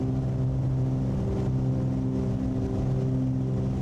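A Cessna 414 in Microsoft Flight Simulator runs its twin piston engines at full power, making a steady, droning hum with strong low harmonic tones that stays constant and fairly loud, with no voices.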